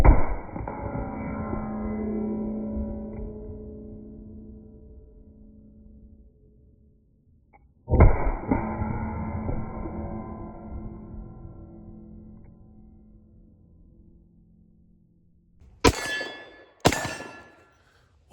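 Colt revolver firing hot .44 Magnum loads, two booming shots each ringing into a long decaying echo, followed by two sharp metallic clacks near the end.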